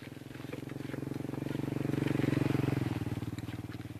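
A motorcycle fitted with a one-liter exhaust is revved up close and loud, its rapid pulsing engine note rising, holding and then easing off, with a voice briefly audible over it.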